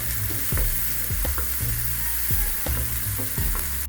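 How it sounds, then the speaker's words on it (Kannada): Onions and cumin sizzle steadily in a hot pan alongside mustard seeds, with a continuous frying hiss broken by several soft stirring scrapes and clicks, close and alone, with no voices. "ಈಗ ಉಳ್ಳಾಗಡ್ಡಿ ಹಾಕೊಂಡು ಎಲ್ಲ ಫ್ರೈ ಮಾಡ್ಕೋತೀನಿ."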